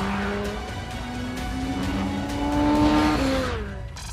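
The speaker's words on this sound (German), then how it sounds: "Das Einlenken, ne, wie das hier durch die Kurven geht," A Porsche 919 Hybrid race car with 900 hp all-wheel-drive output corners hard, its engine note rising and holding a strained pitch, then dropping as it exits the bend, loud and close with no talk.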